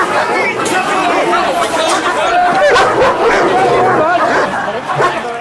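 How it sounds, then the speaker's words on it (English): Police dogs bark and yip loudly and continuously at a crowd during a public order operation, dense overlapping barking mixed with crowd chatter and shouting close by. "Just the noise of police dogs and the strength of them, you know, can be a tactic to move the crowd and disperse a crowd back."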